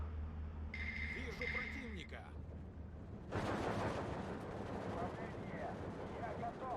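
DP machine gun fire in Steel Division 2 keeps enemy units pinned in a WWII battle. It comes as distant bursts and a rumbling battlefield din that grows louder partway through, with someone talking over it.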